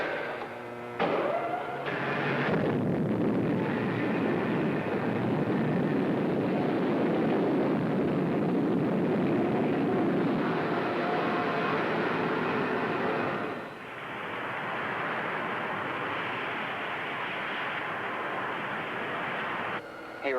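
Rocket ship blastoff sound effect from a 1954 space adventure serial: a loud, sustained roaring rush of noise that swells after a brief start, holds for many seconds, dips briefly, then continues steadily with no voices.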